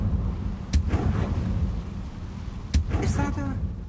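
A Confringo blasting spell going off in Hogwarts Legacy: two sharp, loud cracks about two seconds apart, each trailing a brief crackling burst over a low rumbling ambience.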